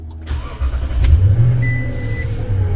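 A Toyota Tundra pickup engine turns over and starts, a close, loud crank rising into a steady idle rumble with a faint electronic tone partway through.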